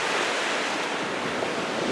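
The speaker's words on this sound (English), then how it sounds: "I hope you guys can hear me over all this wind." Strong wind buffets the microphone while ocean waves roll onto a beach below a cliff, forming a dense, steady, loud roar with no break and no speech.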